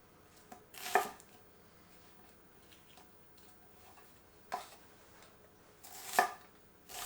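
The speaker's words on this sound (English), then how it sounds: "I like to do this by cutting the onion into quarters lengthwise." A knife slices through a peeled white onion on a cutting board, a few sharp, crisp chops spaced apart, near and fairly quiet, with no talking.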